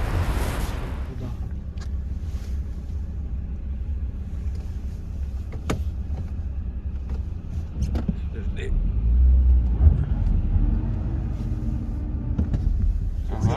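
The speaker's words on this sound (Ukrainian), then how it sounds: "ми вирішили поїхати на тест-драйв та подивитися, як автомобіль веде себе в ходу" A minivan engine hums steadily while driving on a test drive, with road rumble throughout and a few brief clicks and knocks from inside the cabin.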